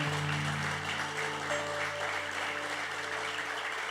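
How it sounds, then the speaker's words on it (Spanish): A church congregation clapping together in a steady, dense wash of applause, with a sustained organ or keyboard tone running beneath it. "Dele un aplauso al Señor."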